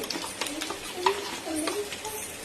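Onions frying lightly with curry leaves in a home kitchen pan, a soft, steady sizzle with occasional stirring scrapes, moderately close and fairly quiet throughout.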